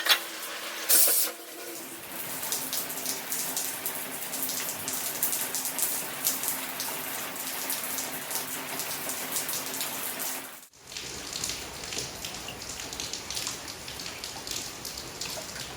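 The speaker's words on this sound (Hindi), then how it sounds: "सर्दियों की ये पहली बारिश हमारे यहाँ इतनी झमाझम वाली हुई है" Heavy winter rain pours down steadily as a dense, loud hiss, with a brief break before the downpour continues just as strongly.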